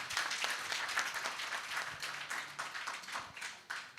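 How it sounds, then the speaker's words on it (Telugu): Audience at a Miss Nellore 2025 event applauds in a steady, dense patter of many hands, fairly faint and distant, continuing for several seconds without voices. "సునీల్ రెడ్డి గారికి ఒకసారి చప్పట్లు మీరు అందరూ కొట్టాలి."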